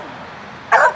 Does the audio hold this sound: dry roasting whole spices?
no